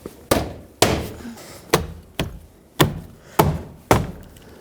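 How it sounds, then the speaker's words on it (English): Eight firm, hollow knocks land about two per second, close up, as a plastic door panel's push clips are tapped into place on a 2012-2017 Toyota Camry front door. "With all the push clips lined up and the door panel attached at the top, let's tap it in."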